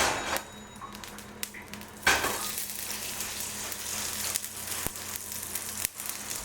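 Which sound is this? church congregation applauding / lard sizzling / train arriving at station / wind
lard sizzling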